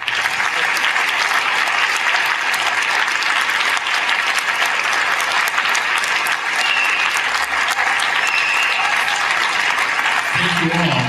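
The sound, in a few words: gala audience applause for donors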